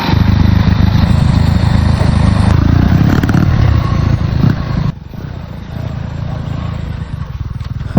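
A Sniper clone motorcycle engine is test-run up close, roaring loud and steady before dropping to a lower, rougher idle partway through.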